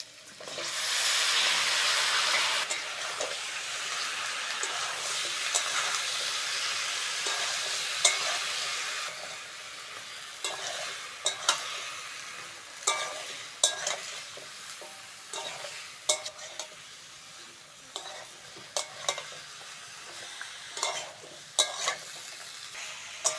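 Flat beans and eggplant hit a pan of fried potato and onion with a loud hissing burst that settles into a gentle sizzle, broken by repeated spatula scrapes and clinks; there is no talk.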